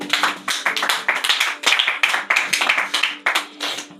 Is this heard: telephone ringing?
no